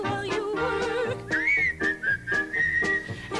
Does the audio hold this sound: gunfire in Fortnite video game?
no